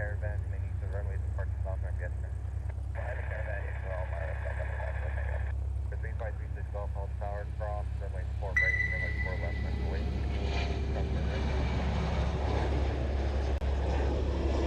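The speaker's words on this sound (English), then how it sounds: "It's a Stitch throwing the shaka on the side of that plane" A large airliner at Honolulu airport, Hawaii, gives off a steady low engine roar that swells toward the end, heard under a voice talking live.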